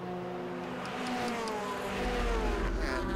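Mazda MX-5 race cars on track at Cadwell Park, heard faintly from a distance as engines drone and whine past, one pitch sliding down as a car goes by.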